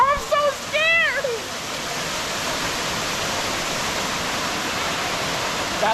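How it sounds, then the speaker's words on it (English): A waterfall at the Punch Bowl pours as a constant, broad hiss that fills the scene, with a brief burst of excited voices near the start. "You see the waterfall?"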